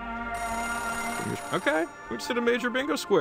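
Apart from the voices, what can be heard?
payphone ringing in the video game Oxenfree II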